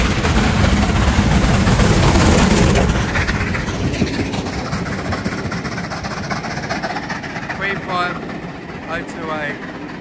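The British Pullman, running from London Victoria to Dover with a locomotive on the rear, passes through Bromley South station, loud at first and then fading into a rolling clatter of carriages, with people talking.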